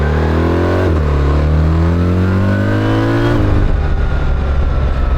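A 2025 BMW R1300RT engine pulls hard through the gears, rising in pitch, dropping at a shift, climbing again, then easing off into a steady drone. It sounds loud and close, with no talk.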